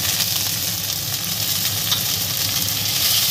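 Onion, grated ginger and green chili sizzling loudly in a pan, a dense steady frying hiss close by with stirring underneath, no talk.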